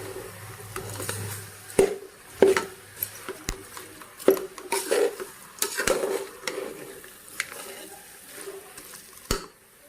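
A spoon stirs jaggery into puran filling in a pot, giving irregular scraping knocks and soft squishy clatters against the metal over a faint low sizzle.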